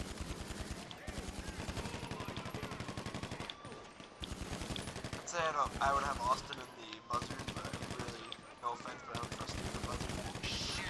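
Police open fire in GTA Online during a prison heist, a near-constant rapid rattle of automatic gunshots in dense bursts with short gaps, while players talk over the shooting.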